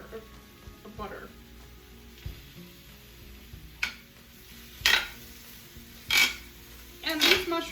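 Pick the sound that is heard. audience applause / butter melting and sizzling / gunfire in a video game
butter melting and sizzling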